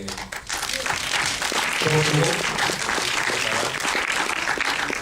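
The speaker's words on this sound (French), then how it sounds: "lui aussi il mériterait bien un applaudissement" Audience applause at a Paris film screening, honoring the film's producer, with sustained clapping from a crowded hall and a brief voice audible within the steady wash.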